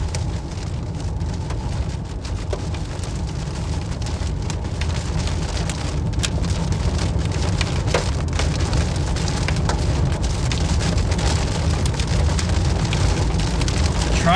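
Heavy rain and hail pound a storm chaser's car during a tornado near Mineral Wells, a dense, loud, continuous drumming on the roof and glass with scattered sharper impacts.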